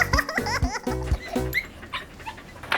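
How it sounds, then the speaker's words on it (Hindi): Cartoon dog barking from a Hindi comedy animation, several short yelping barks in quick succession, close and loud, mixed with squeaky voice-like sounds and music. "ओए ये मजदूर का कुत्ता है,"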